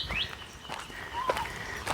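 A small bird sings from nearby bushes along a country nature walk in Nyngan, New South Wales, giving a few bright, thin whistled phrases over faint background chirps and soft rustling.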